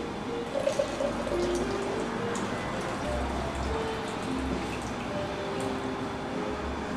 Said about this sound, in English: The next thing we're going to do is add the rest of our hot water.